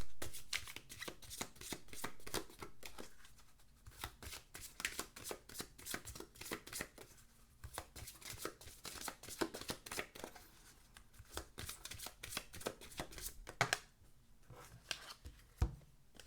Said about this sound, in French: on va prendre quelques prières, quelques cartes de guidance de l'archange Raphaël